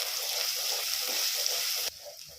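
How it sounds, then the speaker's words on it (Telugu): Ginger garlic paste fries in a pan with a steady, close hiss of sizzling oil that suddenly drops to a softer crackle near the end. "అప్పుడు వరకు మంచిగా వేయించుకోవాలి"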